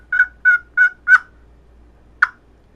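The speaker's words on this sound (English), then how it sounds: "make your yelps very light," Light yelps on a hand-made turkey call: four quick soft notes in a row, a pause, then one more single note, close up with no voices.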